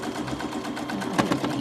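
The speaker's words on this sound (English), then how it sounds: "So I'm always doing a little back stitch at the end there, just purely because I don't want it to come undone." Sewing machine stitching quilt fabric pieces, a steady close mechanical whir with rapid needle rhythm running continuously, with a slight bump near the end as the stitch finishes.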